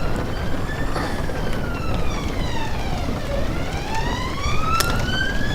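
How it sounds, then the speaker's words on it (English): A police car siren wails past, its rising and falling tones sliding in pitch as the vehicle passes, heard at moderate distance over a steady wash of traffic and outdoor noise. "Police car going past."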